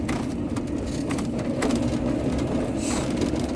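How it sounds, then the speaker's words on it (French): Birds nesting in small holes in a cliff along the Apache Trail in Arizona make soft cooing and calling sounds, heard distantly beneath steady wind rumble and outdoor ambience. "Ces oiseaux donc, qui nichent dans"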